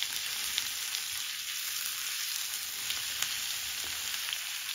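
Pork and aged kimchi stir-frying in perilla oil, a dense, steady sizzle close up with crackling pops and occasional stirring scrapes, no voices.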